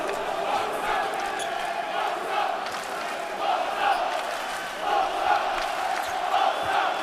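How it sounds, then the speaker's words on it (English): A Bosnia and Herzegovina crowd roars at a EuroBasket 2022 basketball game against France, a steady wash of arena cheering and chanting swelling in waves. "the Bosnia and Herzegovina crowd is suddenly awake, trying to inspire their team"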